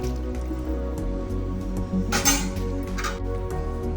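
Cooked dal poured into boiling tamarind rasam in a pot, with a short wet splash and glug over a steady low simmering hum, then a few soft drips and clinks nearby.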